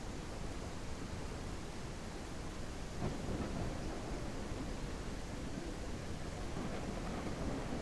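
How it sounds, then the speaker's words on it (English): Steady rain pours down with a rumble of thunder partway through, a broad continuous wash of storm noise outdoors with no voices. "As I'm getting rained on now."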